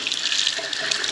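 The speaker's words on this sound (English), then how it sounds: "we've got hot now coming through the bath" Hot water runs from a bath tap in a bathroom, a steady, close rushing hiss with no breaks, heard alone.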